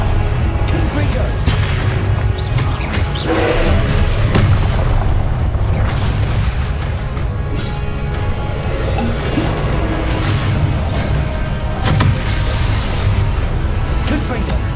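Repeated Confringo blasting-curse explosions in Hogwarts Legacy: heavy low booms and crackling bursts hit again and again over a dense, continuous battle din, with a voice speaking throughout.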